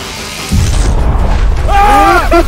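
The Doctor's Static Blast in a horror video game lands as a heavy booming electrical burst, a sustained low rumble followed by rising tonal whines.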